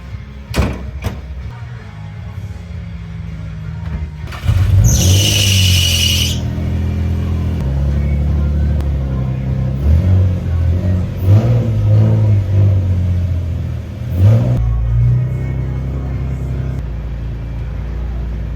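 A Nissan 350Z sports car engine idles and revs, rumbling low as it moves slowly into a garage, with a sharp high hiss and a thud of a door partway through.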